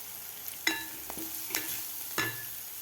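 Chili paste and curry leaves being sautéed in a pan, with a low steady sizzle broken by three sharp scraping stirs of a spoon against the pan, each clear and close.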